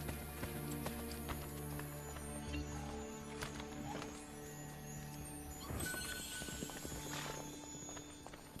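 Horse hooves clip-clop at a steady gallop in Assassin's Creed Brotherhood, layered over a constant game soundscape of music and ambience, with a louder flurry of hoofbeats and impacts near the end.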